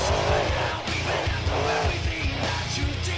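A monster truck in BeamNG.drive spins donuts at a freestyle event in Chesterfield, Missouri, with its engine droning loudly under repeated tire squeals and skidding in continuous cycles.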